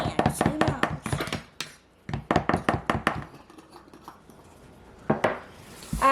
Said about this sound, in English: I'm mixing everything together now